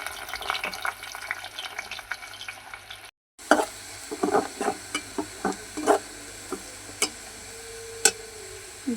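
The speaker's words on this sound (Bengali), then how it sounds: "এই যে পেঁয়াজটা আমি ভাজা নিছি" Sliced onion fries in hot oil in a cooking pot for a meat curry, giving a soft steady sizzle with scattered sharp crackles and pops and a short silent gap partway through.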